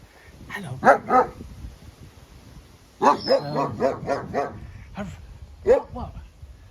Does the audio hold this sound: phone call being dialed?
no